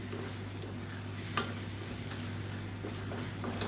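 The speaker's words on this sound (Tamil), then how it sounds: "சிம்மிலே விட்டு நல்லா கிளறி கிளறி கொடுக்கணும்" Thick protein dosa thokku cooks in a pan on a low flame with a steady close sizzle, broken by a few soft scrapes of stirring.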